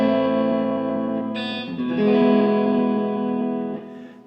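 Sustained electric guitar chords from an EART NK-C1 Tele-style guitar ring out through a '65 Deluxe Reverb amp with a compression pedal, drenched in reverb and delay, shifting once midway and then fading into a tail.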